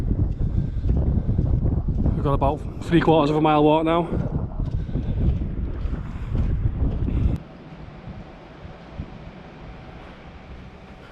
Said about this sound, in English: really sorry about the wind noise, it's really windy